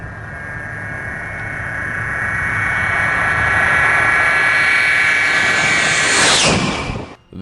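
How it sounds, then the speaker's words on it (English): An RAF fighter jet flies low and then climbs away, its roar swelling steadily to a loud peak and then sweeping past and cutting off sharply. "It's mind-boggling how low this guy's fighter jet was before he took off."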